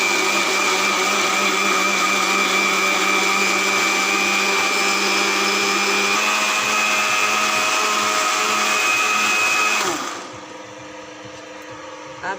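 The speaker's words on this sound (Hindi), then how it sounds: "करेंगे ग्राइंड बिल्कुल बारीक फॉर्म में, लिक्विड फॉर्म में कर लेंगे।" A blender grinds soaked, washed moong dal into a fine liquid paste, a loud steady motor whine with churning that runs continuously for about ten seconds before cutting out and winding down into quiet.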